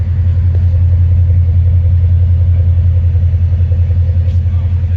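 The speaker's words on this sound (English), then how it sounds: "Listen to the exhaust." A Mercedes CL550 exhaust rumbles in a deep, steady idle close to the microphone, a continuous low throb with a faint pulsing rhythm.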